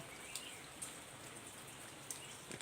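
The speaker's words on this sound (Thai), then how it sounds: "เอาฝนมาฝากอีกแล้วค่ะ" Steady rain falls outdoors over a lawn among trees, a soft continuous hiss with a few sharper drip taps, faint and distant throughout, no one speaking.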